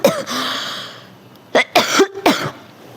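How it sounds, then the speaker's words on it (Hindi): Several sharp coughs from a woman, close and fairly loud, arriving in a quick cluster of three or four bursts after a brief spoken fragment, with quiet room background between them. "खांसी आ गया"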